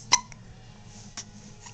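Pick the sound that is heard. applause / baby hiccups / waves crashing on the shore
baby hiccups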